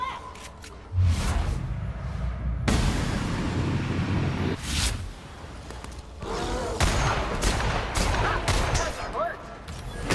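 Gunfire in the video game The Outer Worlds, loud bursts of shots and booming blasts in irregular clusters throughout, with voices talking over the action.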